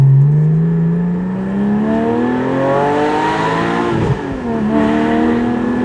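A Porsche 718 Boxster Spyder fitted with a Fabspeed lightweight competition cat-back exhaust revs up loud and close, its pitch climbing steadily, dipping briefly near the end, then rising again with no voices over it.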